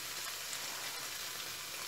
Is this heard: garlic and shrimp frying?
yes